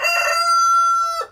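A rooster crows once, close and loud, a single drawn-out cock-a-doodle-doo with a strained, nasal ring that fades off sharply at the end.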